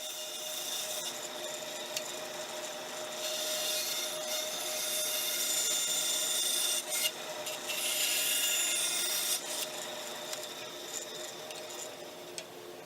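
Steady rasping strokes of hand sanding on a wooden wine glass holder centerpiece continue close by, rubbing back and forth with a few brief louder scrapes.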